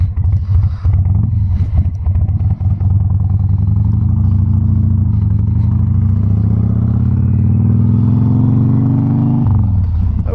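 A 2004 Harley-Davidson Sportster 1200 Custom pulls away with a loud, close, rumbling V-twin note. The engine clatters at first, then rises steadily in pitch through one long pull before dropping off near the end.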